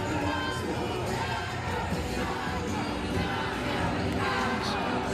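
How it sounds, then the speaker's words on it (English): An arena wrestling crowd keeps up a dense, steady roar of cheering and yelling for a wrestler. The sound stays loud and unbroken the whole time, with no clear single voice rising above the mass. "The crowd screaming for him."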